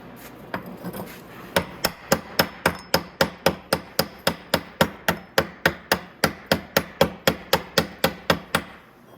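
A hammer taps off a welded motorcycle exhaust part in a quick, even run of about thirty sharp metallic strikes, close and loud, with no talk.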